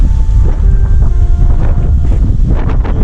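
Strong wind in İnebolu, Turkey, roars and buffets the microphone continuously, with low rumbling gusts and faint tonal whistles.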